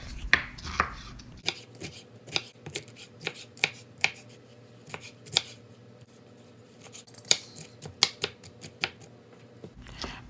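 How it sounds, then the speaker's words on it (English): A knife chopping a small pineapple on a board, delivering a steady run of sharp, fairly close clicks and thuds at an uneven but regular pace, with no voices over it. "Now it's time to chop up our little pineapple."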